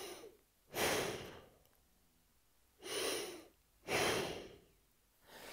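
Deep breaths for a clarinet warm-up: a long, forceful rush of air, then a pause, then two more strong breaths close together, each loud and near, with no talking.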